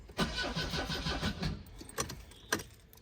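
A Volvo 242 engine turns over in a rapid rhythmic chug for about a second and a half with no fuel pump prime, followed by a few sharp clicks and clunks nearby.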